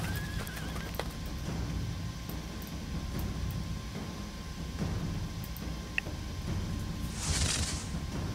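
A horse whinnies once near the end over a steady low hum of strategy game ambience, with faint hoof clops earlier.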